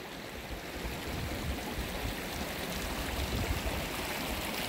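A stream rushes steadily and close in a peaceful natural setting, a dense, even wash of flowing water that holds without a break.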